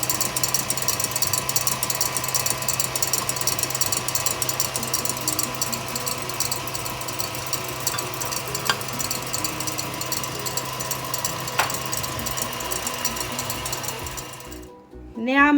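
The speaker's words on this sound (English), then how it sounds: "whisking my egg whites" Egg whites being whisked for Brazilian bem casado wedding cookies, a steady electric-mixer whir that runs unbroken for about fifteen seconds, then cuts off near the end.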